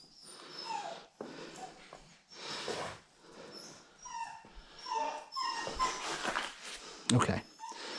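A dog whimpers and whines inside a cave in Bluff City, Tennessee, in short, high, broken bursts mixed with snuffling breaths, close by and recurring across the stretch.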